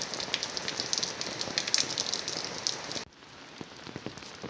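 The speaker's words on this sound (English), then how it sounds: "here take a look at the dripping water." Rainwater drips steadily in a village courtyard in Shimla during the rainy season, a dense patter of drops close by that drops abruptly softer partway through, with scattered louder plinks continuing.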